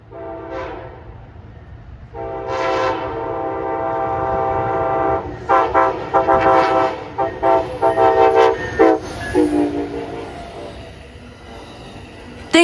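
An Amtrak Auto Train passes at Folkston, Georgia, its engineer blasting a long, loud series of horn notes over rumbling, clattering cars, the horn dropping out before the rolling noise fades.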